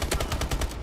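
Rapid automatic gunfire in a video game, about seven evenly spaced loud shots in under a second, close and punchy with no speech.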